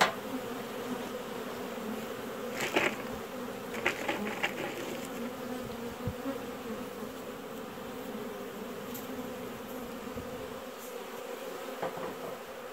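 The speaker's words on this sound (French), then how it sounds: "petit coup de balayette pour enlever les dernières abeilles" Honey bees buzzing steadily as they are brushed off a hive frame, a close continuous drone with a few sharper brushing sounds and louder flyby swells.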